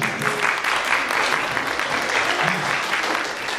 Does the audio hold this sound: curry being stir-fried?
no